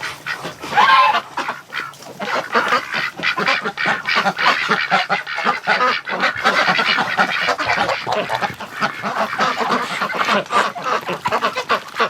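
Wintering ducks at a lake give dense, loud honking quacks in rapid overlapping bursts, close by and continuous throughout, with no talk.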